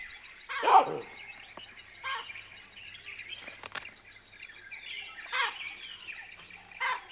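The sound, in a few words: baboon lookout alarm barking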